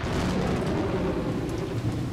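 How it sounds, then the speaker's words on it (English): Thunder rumbles low and steady under a heavy downpour in the Umineko When They Cry visual novel, a dense, continuous roar of rain and storm with no talking. "The crashing thunder told that the island had been sealed off from the outside world."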